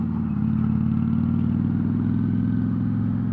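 A bobber motorcycle rides along with a loud, close, steady engine thrum and a fast pulsing exhaust beat, unbroken by any talk.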